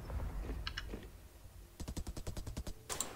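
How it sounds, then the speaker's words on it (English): Ship cannons in the space strategy game StarDrive fire in a rapid burst of sharp, evenly spaced shots, preceded by a few scattered quieter blasts, fairly faint overall. "it's that cannon fire from these ships"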